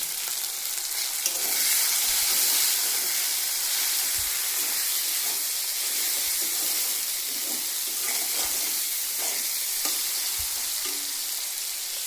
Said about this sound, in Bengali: এখানে কষানো হচ্ছে, ওর মধ্যে দিয়ে দেবো হলুদ, দিয়ে দেবো লবণ।